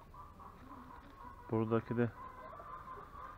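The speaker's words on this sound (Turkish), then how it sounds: "Burada bir tane kur Atax tavuğumuz var." Atax chickens in a coop give two short, loud clucking calls close by, set against a steady background hum and voices talking.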